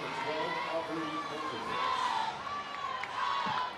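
Crowd noise at an NCAA softball game between Alabama and Missouri in mid-Missouri, a steady murmur of voices and scattered cheers beneath nearby talk.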